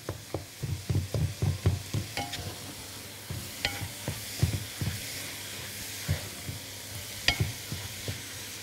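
Minced meat seasoned with nutmeg being stirred in a sizzling pan, with steady frying hiss under repeated close scraping and tapping strokes of a utensil, no talking.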